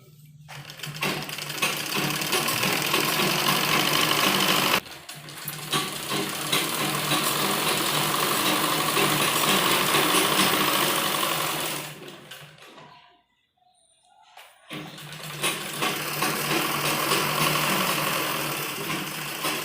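A sewing machine runs in long continuous bursts while stitching the waistband casing of men's underwear. The steady mechanical whirr cuts out once briefly, then stops for about two seconds of silence before starting again, close and fairly loud.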